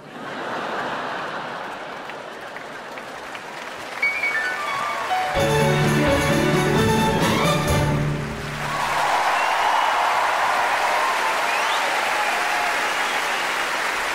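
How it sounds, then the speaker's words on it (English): Audience applause at a comedy prom concert, a dense roar of clapping throughout, with a brief sustained musical chord rising over it in the middle. "Please maintain and enhance your applause"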